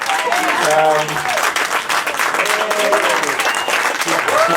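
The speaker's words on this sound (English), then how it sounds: "He deserves a big round of applause. So he deserves a standing ovation" Audience applause at a historic district celebration in New York swells into a standing ovation, loud and sustained across the room, with shouted voices and harmonic tones rising over the dense clapping.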